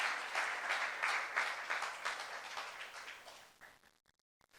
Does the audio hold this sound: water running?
no